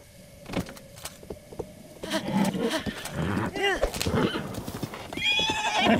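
A horse in The Legend of Zelda: Breath of the Wild whinnies and snorts, with hoof clip-clops and game effects mixed in, growing louder and busier after a quieter start, ending in a high neigh.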